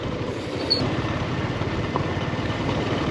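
A motorcycle taxi idles near the Rwanda–Congo border, its engine a steady low rumble with a fast, even pulse. The sound holds at moderate volume for about three seconds with no speech.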